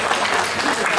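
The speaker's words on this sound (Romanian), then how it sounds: "Aplauze pentru organizatori." Audience applause at a 2024 New Year's Eve celebrity show, a dense, steady wash of clapping filling the whole moment with no break.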